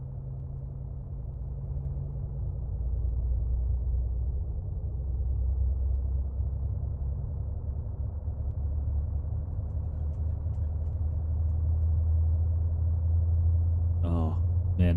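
Boeing 757 engine spooling up during startup in the X-Plane 11 flight simulator: a steady low rumble and hum that builds and holds for the whole span, with a brief burst of clicks near the end.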